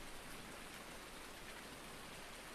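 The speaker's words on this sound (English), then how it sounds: "I thought they fixed the rain falling through thingy." Steady rain hisses in a video game, heard here as a dense even wash of faint patter as it leaks through a roof, with no other sounds.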